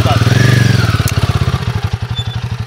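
A Royal Enfield Himalayan motorcycle engine runs loud and close with a steady pulsing thump, off-road riding setting.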